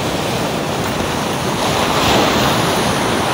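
Rough ocean waves surge and wash steadily along the shore during a fishing trip, a continuous loud roar of surf mixed with wind, swelling slightly toward the end with no talking.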